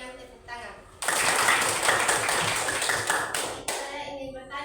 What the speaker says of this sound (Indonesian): mari kita memberikan apresiasi kepada kelompok 1 dengan tepuk tangan.